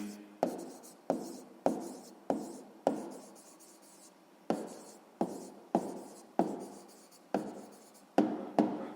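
Pen writing an answer on paper during a sixth-grade maths exercise, with about a dozen short close scratchy strokes at a steady pace and no talk over them.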